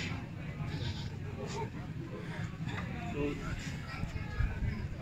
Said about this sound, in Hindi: इसके अलावा ये बकरा है जी